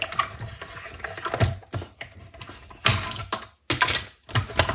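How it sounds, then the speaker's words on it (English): Manual die-cutting machine cranking cardstock and a die through its rollers, close ratcheting and grinding clicks in uneven bursts with brief pauses between turns. "I can put my piece of cardstock and my die on here now, and I'm just going to crank it through."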